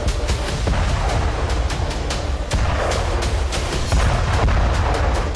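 US and British airstrikes drop bombs on Houthi sites in Sanaa, a loud, continuous barrage of rapid booms and sharp bursts that follow one another with almost no pause.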